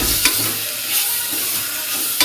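Chopped tomatoes with turmeric and salt sizzle steadily in a pan, with a few sharp scrapes of a spoon stirring them up close; no talking.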